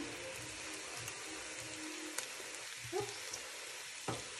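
Garam masala sizzles in a pot of Kenyan Swahili pilau, giving a steady close frying hiss with a few soft clicks and stirring knocks and no voices.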